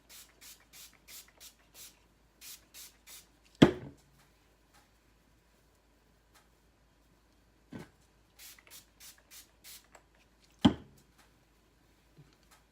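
Short bursts of hissing spray of leave-in conditioner onto hair come in quick repeated pumps, close and fairly quiet, with a few louder knocks and clatters in between.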